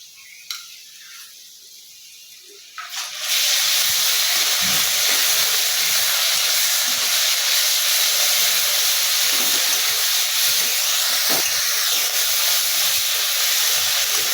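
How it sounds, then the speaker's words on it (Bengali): Ginger, garlic and onion paste hits hot oil over fried onions for a Bengali mutton curry. After a few quiet seconds a loud, steady sizzling hiss bursts in and continues strongly to the end. "আমি এর মধ্যে দিয়ে দেবো বেটে রেখেছি আদা রসুন পেঁয়াজ এই বাটাটা দিয়ে দেবো"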